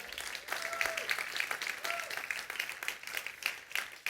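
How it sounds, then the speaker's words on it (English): Church congregation applauding, a moderate, fairly faint burst of clapping with irregular peaks, with a voice and some tonal sounds under it. "I hope you'll clap for this"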